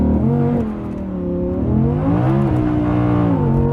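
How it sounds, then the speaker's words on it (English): An Audi R8 V10 Performance engine revs hard and accelerates on launch control with a rising, throaty roar, loud and close, pitch climbing through a gear change. "Audi R8 V10 performance with launch control."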